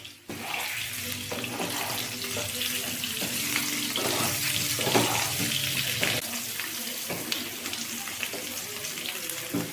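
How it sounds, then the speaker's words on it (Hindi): Potatoes fry in a pan for dum aloo, a dense, even, rushing sizzle near the mic with soft stirring knocks throughout. "हम इसको अच्छे से फ्राई कर लेंगे गोल्डन ब्राउन आने तक"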